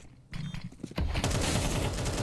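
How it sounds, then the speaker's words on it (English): A Galil rifle in a professional Counter-Strike match fires a rapid, sustained burst of shots that starts suddenly after a quieter moment and keeps going to the end. "Nice shot out of that Galil. bizinha just keeps on firing."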